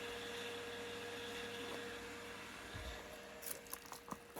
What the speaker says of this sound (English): Just going to show you the machine room for the swimming pool.